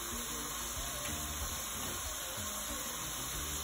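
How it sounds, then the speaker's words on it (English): Shrimp frying in hot oil for a Haitian spaghetti dish, a steady close sizzle and hiss running continuously without any spoken voice. "now I'm gonna turn it over and let it fry again for another 2 minutes on the other side"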